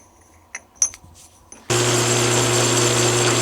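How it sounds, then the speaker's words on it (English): An angle grinder grinds out a weld seam on a steel pipe during a Caterpillar forklift headache rack repair. A few faint clicks and taps come first, then the grinder cuts in abruptly with a loud, steady, harsh whine that holds close and unbroken to the end. "I gotta grind this seam out here for this pipe center to work."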